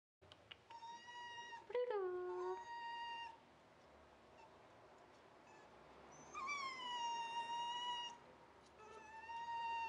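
Maltese dog whines and whimpers in several high, drawn-out cries, some rising and falling in pitch, separated by short pauses, fairly close and moderately loud with no speech.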